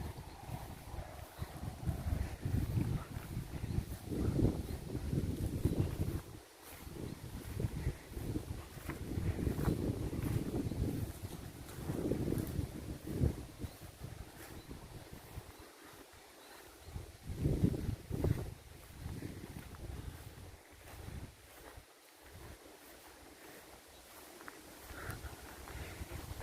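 Wind blows outdoors near a river fork in cold, rainy weather, a continuous buffeting rumble of gusts against the microphone that rises and falls over the whole stretch, with no voices.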